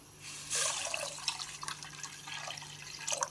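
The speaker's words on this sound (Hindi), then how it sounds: "मैंने इसमें 2 गिलास पानी शामिल कर दिया" Two glasses of water pour into a pan of herbal remedy, a soft splashing burst that trails off into scattered drips and small trickles at low volume, without any talk.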